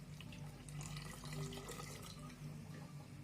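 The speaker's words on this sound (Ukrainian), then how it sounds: "розмішую і заливаю огірочки" Quiet, steady trickle of salt brine made from tap water being poured over cucumbers in a jar, with soft liquid gurgling and splashing throughout, no speech.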